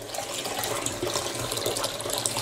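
Cabbage and other vegetables are rinsed under a running kitchen tap: a continuous, steady hiss and splash of flowing water, close and moderately loud, with no talk.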